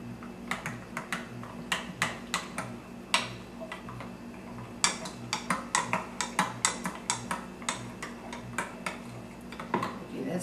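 Spoon mixing two cups of applesauce into a batter in a bowl, quick clicking scrapes and taps in an uneven rhythm, close and moderately quiet over a faint steady hum.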